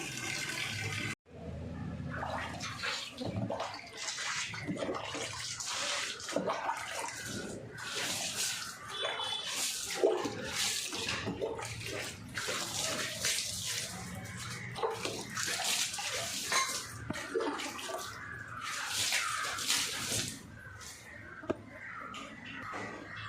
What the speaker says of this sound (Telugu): చెట్లు ఉన్నాయి కదా ఇప్పుడైతే నీళ్ళు పోస్తా